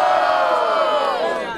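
A crowd at a Brazilian street rap battle cheers and shouts in a loud, dense burst of voices, whoops and yells lasting under two seconds.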